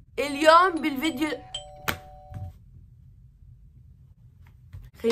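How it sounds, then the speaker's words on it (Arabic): A doorbell chimes once, a bright ding with a short ringing tail, right after a person speaks excitedly; faint room noise follows, then another voice begins at the end. "جرس جرس، ايش في ايش في؟"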